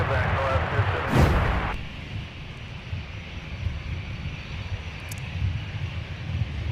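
An airliner landing at Minneapolis–Saint Paul airport, a steady broad jet roar with a louder swell early on that eases into a continuous rumble.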